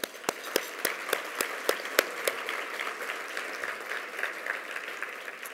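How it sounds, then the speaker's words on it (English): Audience at a mental health awards ceremony applauding the honorees, a steady wash of many hands with a few sharp, close claps standing out early, then settling into an even, moderate roar. "So thank you to all of the honorees, past and present, and we give you all a round of applause."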